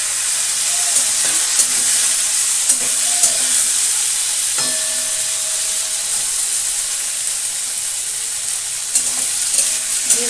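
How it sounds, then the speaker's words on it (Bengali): Fried ridge gourd pieces drop into a hot pan of sugar and a splash of water, setting off a loud steady sizzle with a few clattering knocks and stirs near the start and end. "এবার আমি ঝিঙেগুলো দিয়ে দেবো ভাজা"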